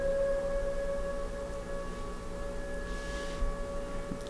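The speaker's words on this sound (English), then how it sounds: "well, there goes the siren." A small-town fire siren wails in the distance, a steady sustained tone held against low background rumble, heard indoors through a window.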